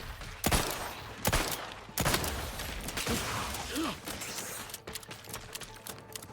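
Gunfire in The Outer Worlds 2 video game: several sharp, loud shots spaced irregularly over a few seconds, with mechanical clatter and rumble between them.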